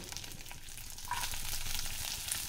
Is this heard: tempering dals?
yes